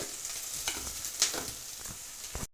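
Onions fried with turmeric in a pan, giving a soft steady sizzle with a few light spoon stirs and taps, close and fairly quiet.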